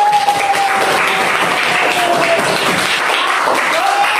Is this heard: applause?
yes